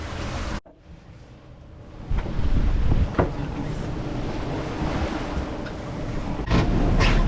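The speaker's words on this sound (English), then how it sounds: "high waves, bad winds, perfect sailing weather in Newfoundland" Strong wind roars and buffets across the microphone at sea off Newfoundland, with heavy waves washing and slapping around a steel expedition sailboat in snowy winter weather, a steady loud rush with surges throughout.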